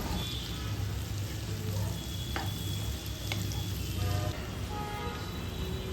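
Garlic and soaked dried chili paste sizzling and frying in a pan for a bean and potato curry, a steady close crackle with faint stirring clinks and no talk.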